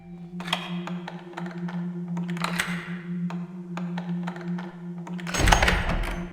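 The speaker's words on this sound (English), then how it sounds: "something about the clicking and clacking of the lockpicks just sounds so good" Lockpicks click and clack in a lock in the game Thief: The Dark Project, a run of irregular sharp taps over a steady low hum, ending in a louder burst as the mechanism gives.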